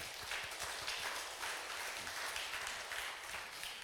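A church congregation at a Palm Sunday worship service claps together in a continuous wash of applause that sounds faint and distant throughout.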